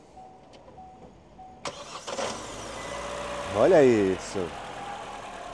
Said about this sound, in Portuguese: pedi para o amigo da partida aqui no motor, para a gente escutar junto o carro funcionando